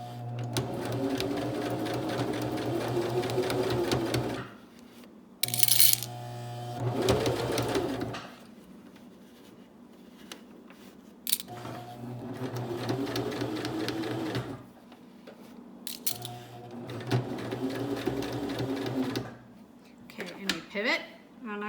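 A sewing machine stitches down the pleats of a fabric face mask in several rapid mechanical bursts separated by pauses. A person talks between and over the runs.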